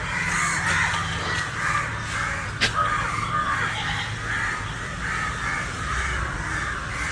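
A crow caws repeatedly outdoors, harsh calls in a loose rhythm over steady background noise, with one sharp click partway through.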